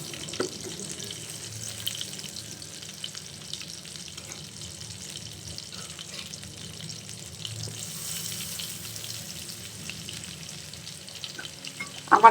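Hilsa fish fries in a pan in a Barishal-style home kitchen, a steady low crackle and sizzle running throughout, with a few clinks and a louder knock at the very end.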